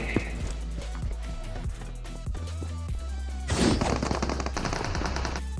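Rapid bursts of automatic gunfire from a BGMI battle royale match, loud and dense, with repeated shots rattling throughout and a heavier volley near the end, set against game music.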